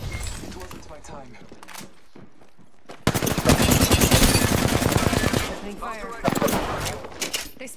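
Incoming gunfire striking the player in a video game, a dense rapid burst of loud shots and impacts from about three to five and a half seconds, with a voice talking before and after.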